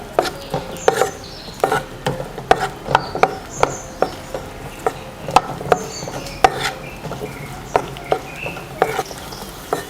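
Green chillies, shallots, ginger and garlic sautéing in oil in a pan, a soft continuous sizzle punctuated by a steady run of sharp spoon scrapes and taps against the pan.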